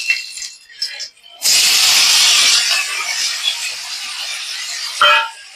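Batter dropped into hot oil gives a sudden loud, hissing sizzle that holds steady for several seconds, then flares briefly near the end. A voice is heard faintly before the frying starts.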